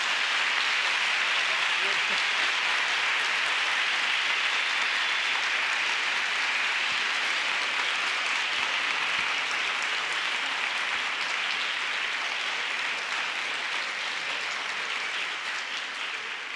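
Audience at a university entrance-exam lecture giving a professor a round of applause, steady dense clapping sustained throughout with little change.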